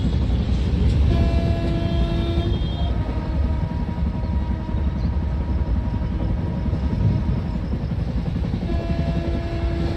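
Indian passenger train 13006 Amritsar–Howrah Mail running in Train Simulator, a steady loud rumble of engine and wheels throughout, with sustained horn-like tones sounding early and again near the end, no talk.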